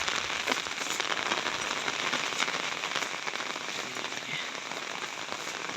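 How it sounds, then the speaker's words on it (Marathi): Light, fine rain falls steadily outdoors on a watershed site where water collects, a continuous soft hiss of drops on surfaces with scattered crackly patter, close and fairly loud, with no voices. "पाऊस थोडी बारीक आहे"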